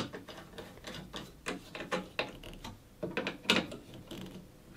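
A dowel jig's screws being tightened back up to clamp its fence, a run of close, uneven ratcheting clicks and small metallic scrapes over a few seconds, with no talking.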